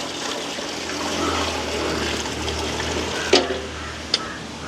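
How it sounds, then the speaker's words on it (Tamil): Water poured into a pot of rice for chicken biryani in a village kitchen, a steady rushing splash running nearly throughout, close and fairly loud, with a few sharp clinks near the end. "ஒரு கப் அரிசிக்கு ஒன்றரை கப் தண்ணி அளவில் வந்து தண்ணி எடுத்து வச்சுருக்கிறேன் தண்ணியை விட்டு கொள்ளுவேன்"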